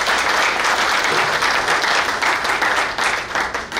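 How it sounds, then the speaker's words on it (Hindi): Crowd at a patriotic poetry recital (kavi sammelan) bursts into loud, sustained applause, many hands clapping densely and close, fading slightly toward the end. "एक बार जोरदार तालियां बजा दीजिए।"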